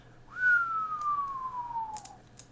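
A human voice imitates a low whistle during a World War II tabletop roleplaying session, set near a rose garden: one smooth, sustained whistle that slides slowly downward in pitch for about two seconds, clear and close.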